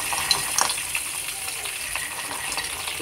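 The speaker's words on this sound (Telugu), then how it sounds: "ఇలా ఆయిల్లో ఫ్రై చేసుకుందాం" Peanuts frying in hot oil in a pan while a chutney is being made, giving a steady, fairly quiet sizzle and crackle with a few small pops and light stirring, with no talk.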